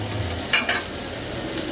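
Vegetables for noodles frying in a pan, a steady close sizzle with two quick stirring scrapes partway through.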